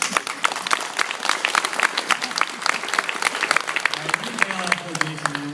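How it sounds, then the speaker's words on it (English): Convention panel audience at WonderCon bursts into applause, distinct individual claps crackling close together at moderate volume, with voices talking over the clapping toward the end. "if you'd like to stand up and take a round of applause"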